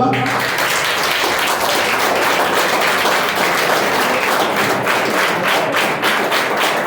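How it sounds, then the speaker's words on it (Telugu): A school assembly crowd claps together in a round of applause, a dense, loud, sustained patter of many hands filling the space. "వాళ్ళందరికీ ఒక్కసారి బిగ్ రౌండ్ ఆఫ్ అప్లాజ్ ఇద్దామా?"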